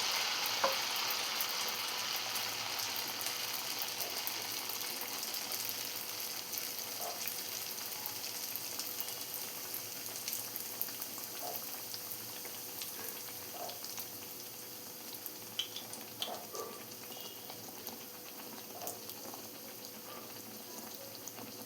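Dough puffing in a pan of hot oil while oil is ladled over it with a spoon, giving a steady, fairly faint frying sizzle with small crackles and occasional soft spoon clinks throughout.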